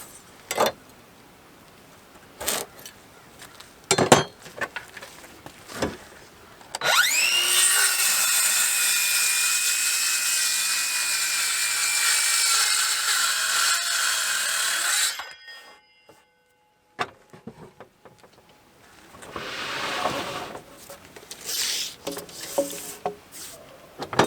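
A power saw rips through wooden stair tread boards cut to 36 inches wide for steps on metal stringers. A steady, loud whining cut runs for about eight seconds, with lighter handling knocks before it and after.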